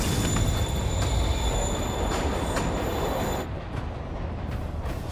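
A train pulls away in the video game Marvel's Spider-Man: a loud, steady rail rumble with high, sustained wheel squeal throughout, easing to a slightly quieter roar near the end, with no voices.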